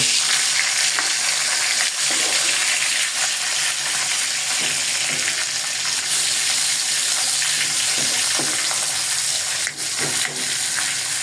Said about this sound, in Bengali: এখানে আমার মাথা এক পিট ভাজা হয়েছে আমি এটা উল্টে দিব